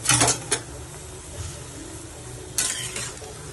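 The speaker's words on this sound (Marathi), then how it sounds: "पटेटोज होते ते मी ॲड करेन। ह्याला परत थोडंसं मिक्स करूया।" Boiled potatoes and peas being stirred in a pan for pav bhaji, a few loud scraping bursts at the start and again near the end over a low sizzle, no talk.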